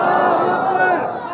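A large crowd at a religious speech chants slogans in unison, a loud, sustained wall of many voices that holds steady and eases slightly at the end.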